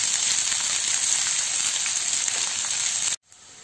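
Sliced onions fry in hot oil with garlic, ginger and green chilli for misal pav, a dense, even sizzle that hisses continuously up close before cutting off abruptly.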